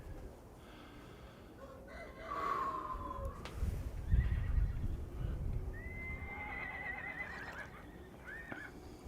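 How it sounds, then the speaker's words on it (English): Horses whinny several times at a middle distance on a morning outdoors, with high rising-and-falling neighs over low rumbling and hoof-like thuds, and a rooster crows faintly in the background. "The horses are talking this morning."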